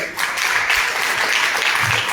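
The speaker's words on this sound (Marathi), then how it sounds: "आसावरी खांडेकरांसाठी जोरदार टाळ्या." A crowd at a music stage event breaks into dense, steady applause, full and fairly close, sustained evenly for a couple of seconds.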